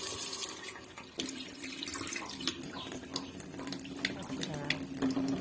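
Water runs steadily from a kitchen tap while a sink is cleaned after cooking, with splashing and small clinks throughout and a voice talking over it.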